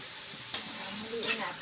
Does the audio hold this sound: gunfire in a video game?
no